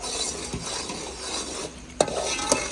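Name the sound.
ghee added to boiling jaggery rice, stirred with spoon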